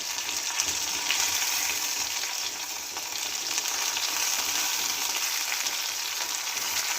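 Steady, close sizzling of a pan frying on the stove while cooking Kanambu (mullet) fish curry, a continuous bright hiss with faint stirring scrapes and no talking.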